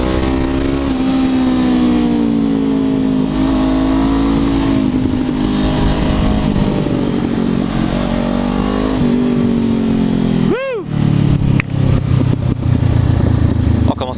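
Loud 2016 Honda CBR 500 R sport motorcycle engine revving up and down close by, with a sharp gear change or backfire crackle near the end before the engine roars again.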